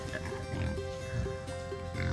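An angry wild hog grunts and squeals inside a trap during loading in Texas, with repeated harsh snorting grunts in short bursts, close and loud against a steady hum.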